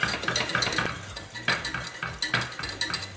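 A spoon stirs salt and nutmeg into cornmeal porridge in a pot, making repeated rhythmic scrapes and clinks against the metal, close up with a faint background bubbling.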